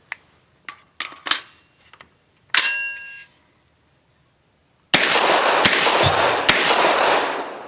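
Several sharp gunshots from a Dark Storm Industries Hailstorm 9mm pistol firing light Hornady 100 grain low-recoil rounds, spaced irregularly over the first few seconds, followed by a sustained loud broadband rush of noise.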